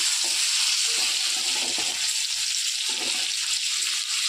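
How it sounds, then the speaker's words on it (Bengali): Onion frying in a pan with green chilli, salt and a pinch of turmeric, giving a steady, close hiss and crackle that fills the whole clip with light irregular clatter underneath. "একটু পেঁয়াজটাকে ভেজে নেওয়া হবে।"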